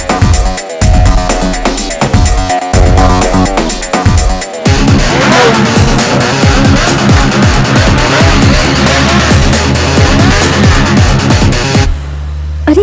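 Motorbikes ridden fast and rough in a Hindi action film, loud engines revving and roaring with tyre squeals and skids, a dense, aggressive, close racket that cuts off abruptly near the end.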